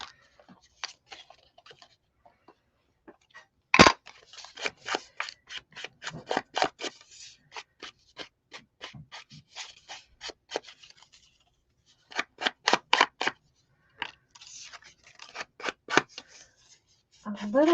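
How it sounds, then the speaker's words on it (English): Paper is roughed up by hand for a distressed look while altering an embroidery hoop craft, producing close, dry rasping and scratching strokes in quick bursts separated by pauses. "I'm really roughing up this paper because I like that distressed look"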